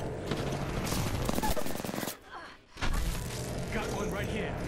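Rapid machine gun fire in a multiplayer shooter game, dense and loud and continuing for most of the stretch with a short lull near the middle. A player's voice runs over it at times.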